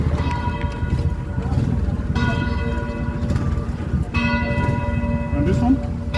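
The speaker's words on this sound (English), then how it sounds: "They ring the bells for the mass." Church bells ring for mass in an old town, with loud, resonant strikes that repeat and keep sustaining as each new peal starts. Street bustle and hoofbeats sound underneath, and voices are heard.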